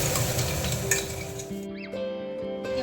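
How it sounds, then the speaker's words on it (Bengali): Meat being sautéed in a pan, sizzling and stirred up close at first, then giving way to quieter sounds and a faint tonal sweep with no speech. "মাংসটা এখন কষাচ্ছি"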